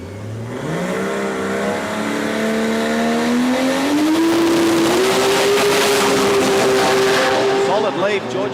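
A VL Commodore drag car launches and accelerates hard down the strip at a sports compact drag racing event, its engine note climbing steadily and staying loud for the whole run, with a commentator talking over the top.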